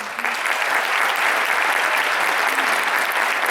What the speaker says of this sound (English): Can we give a round of applause also to Dr. Price?